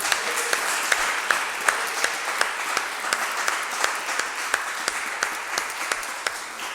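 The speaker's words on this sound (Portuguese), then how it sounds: "Uma salva de palmas para ele." Applause from a church congregation during a service, a steady moderate wash of clapping with sharp individual claps poking out, continuing evenly throughout without talk.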